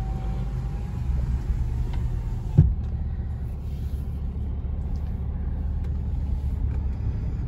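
A car cruises along a road on a long drive, heard from inside as a steady low rumble of engine and tyres, with one brief knock partway through and no talking.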